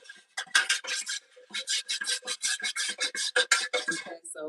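Scraping stir of a homemade candle mixture in a container, a loud run of rapid rhythmic rasping strokes close up, repeating steadily with brief gaps, no talk.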